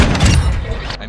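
A sniper rifle shot in Call of Duty: Modern Warfare 2, a booming burst of gunfire with a heavy low thump, close and loud, under game noise with a voice talking over it.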